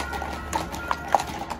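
Horses' hooves clip-clopping at a St. Leonhard horse-blessing procession, a handful of distinct sharp clops at an uneven walking rhythm, fairly close, with faint background murmur.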